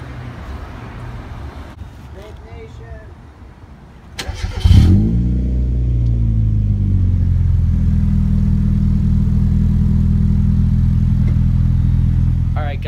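A Mazda Miata engine starts with a short cranking burst and then settles into a steady, loud idle rumble that carries on close by, with no voices over it.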